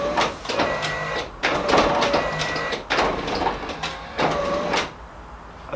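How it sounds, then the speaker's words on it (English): Pop-up headlight motors on an SR240 whir as the lights raise and lower in several repeated cycles, a close mechanical drone with a faint tonal whine and short pauses between movements, and no speech. "I got my headlights going up and down again"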